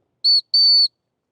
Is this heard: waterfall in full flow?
no